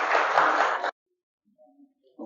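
A short burst of audience applause for an employee-of-the-month award winner at a company event, loud and dense for under a second before cutting off abruptly, followed by quiet and faint voices.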